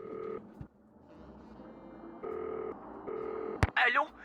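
Touch-tone keypad dialing of a phone number in a Nancy Drew video game, with several steady two-tone beeps in uneven rhythm, followed by a sharp click and a brief burst of bright chirpy sound, faint background noise throughout.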